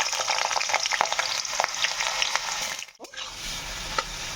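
Potatoes dropped into hot mustard oil sizzle and crackle steadily up close, with stirring scrapes and a brief lull before the frying resumes, as aloo chingri is cooked.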